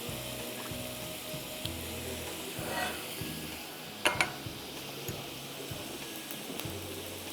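Vegetables sautéing in a pan, a steady close sizzle and crackle of frying with a few clinks and stirring scrapes, no voices over it.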